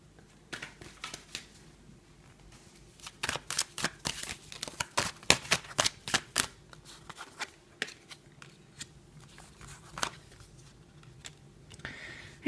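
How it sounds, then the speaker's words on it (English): A deck of tarot cards being shuffled up close, a flurry of crisp riffling snaps and soft slides that bunch into quick bursts, then taper to scattered taps. "give the cards a good shuffle."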